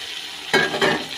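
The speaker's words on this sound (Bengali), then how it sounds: "এখন মাছটা দিয়ে দিচ্ছি।" Fish dropped into a hot pan already frying eggplant and grated garlic, a steady sizzle that swells sharply with two quick bursts as the pieces go in, close and without talk.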